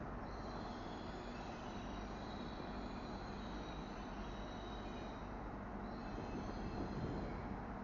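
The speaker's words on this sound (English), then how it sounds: "tram now leaving" A tram pulls out of the Manchester Airport station, a continuous loud rumble of wheels on rail with high squealing tones drifting in and out, close by and without voices.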